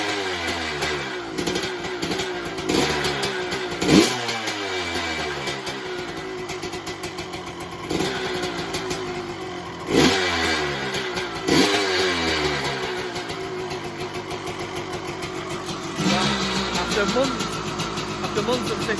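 A 1983 Yamaha YZ250K two-stroke motorcycle fires up and runs, its engine crackling and revving in repeated rising blips, loud and close, with people talking over it throughout.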